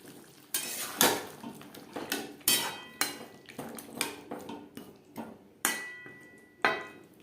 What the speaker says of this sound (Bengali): আলু মশলার সাথে আলু বেশ ভালো করে মিক্সড করে দেবো